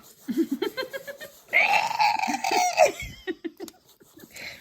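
Someone imitates a goat with a drawn-out, wavering bleat, framed by bursts of laughter and short vocal sounds from nearby people.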